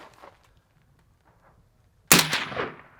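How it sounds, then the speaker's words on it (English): A PTR 32 rifle with a 12.5-inch barrel fires a single sharp, loud shot that cracks out after near silence and rings off with a decaying echo. "we're going to shoot a few rounds now and prove exactly how much the deficit is going to be"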